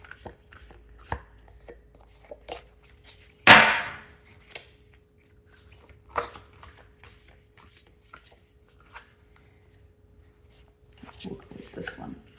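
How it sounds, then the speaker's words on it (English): Stiff sacred geometry cards being shuffled by hand, scattered snaps and riffles with one loud sharp slap early on, irregular and close, with a person speaking softly between bursts. "So they're kind of hard to shuffle."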